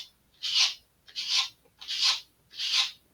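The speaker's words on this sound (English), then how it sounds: "this is where we're just going to round over the side with our sanding block" Four even, rhythmic rasping strokes of a sanding block on balsa wood, close by, each lasting about half a second with brief pauses between.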